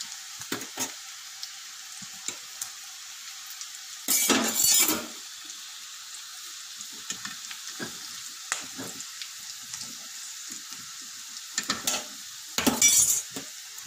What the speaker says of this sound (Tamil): பச்சை மிளகு நல்லா பொரிஞ்சிடுச்சு